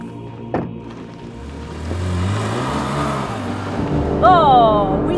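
A Porsche 991 GT3 is driven fast on the Nürburgring from the tourist entrance. A thud comes early, then the engine note climbs and swells as it accelerates, ending with a bright rising whine near the close.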